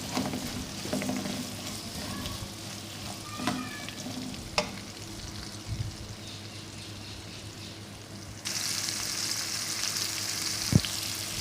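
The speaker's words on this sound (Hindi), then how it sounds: "अब हम इसी कढ़ाई में कटे हुए प्याज ऐड करेंगे और इन्हें फ्राई करेंगे।" Chopped onions frying in hot oil in a kadai, a steady close sizzle with occasional stirring scrapes, growing brighter and louder near the end, no talk.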